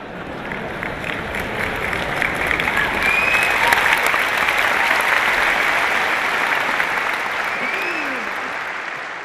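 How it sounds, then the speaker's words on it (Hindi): Sustained applause from an audience, dense clapping from many hands that swells slightly in the middle and then slowly fades, continuous for several seconds with no voices. "बेटे ताली बजा रहे हैं लेकिन पिताजी नहीं"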